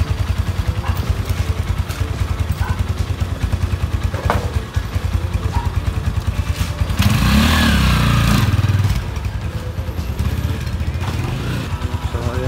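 A Rusi Classic 250 motorcycle fitted with an extended swing arm is on a test ride, its engine putting out a close, steady, thumping putter that swells briefly in a louder rev partway through before settling back.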